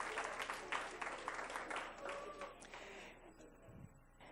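An audience at a school board meeting gives a round of applause for student art contest winners: a steady wash of clapping for about three seconds that fades out, close and moderately loud.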